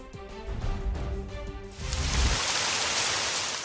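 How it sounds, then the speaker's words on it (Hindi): Heavy monsoon rain pouring down in Lahore, a dense steady hiss that swells louder partway through, with low rumbling underneath and no voices. "बारिश खूब जमकर बरसी"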